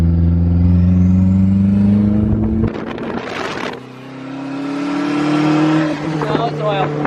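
A turbocharged Mazda Miata engine runs roughly while misfiring, a loud, uneven idle with a sharp burst of noise in the middle, and people talk over it.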